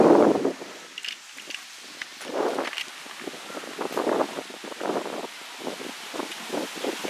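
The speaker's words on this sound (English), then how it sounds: "you can't really hear because it's kind of windy out" Wind gusts blow outdoors on a Florida day, low rumbling buffets and rustling rising and falling in bursts, fairly close and moderate in level.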